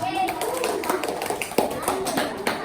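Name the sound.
children clapping hands in classroom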